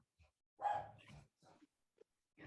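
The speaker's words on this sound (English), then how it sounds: "Sorry about my dogs in the background." Dogs bark in the background of a quiet indoor room, a few short, fairly faint barks and yips spread across a couple of seconds with brief silences between them.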